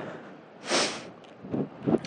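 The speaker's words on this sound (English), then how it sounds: "oh, sorry, I'm sniffing." A person sniffing in cold wind outdoors: a few short nasal sniffs close to the microphone over a background of wind noise.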